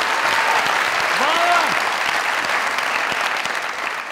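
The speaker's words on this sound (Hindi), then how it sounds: "तालियां जरा दास साहब ने।" Studio audience at a Punjabi comedy talk show breaks into steady, dense applause that fills the clip, with a brief voice rising over it midway.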